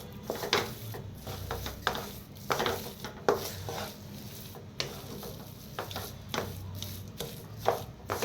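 Spoon working through a potato filling for vada pav with chopped coriander in a pan, giving repeated scraping, knocking strokes in an irregular rhythm, close and fairly loud, with a low steady hum underneath.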